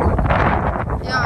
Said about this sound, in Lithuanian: vėjas tik baisus